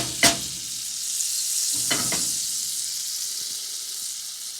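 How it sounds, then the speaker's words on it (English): Butter melting in a skillet, a steady close hiss of sizzling fat after a sharp clank at the start, with a few more light utensil knocks partway through. "now to that same skillet, we are going to add our 2 tablespoons of butter."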